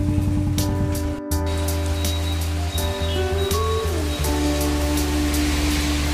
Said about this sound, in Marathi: पुन्हा एकदा आज पाऊस चालू झालेला आहे